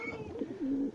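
Domestic pigeons coo close by, with soft repeated throaty calls that swell into a longer, louder coo near the end, set against a faint bird chirp and light background noise.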